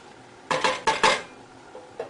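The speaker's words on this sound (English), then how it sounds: "Just stir this around." A metal spoon scraping and clinking against a pot while stirring pepper into salmon stew, four quick knocks in a row then a lone final tap, close and clear.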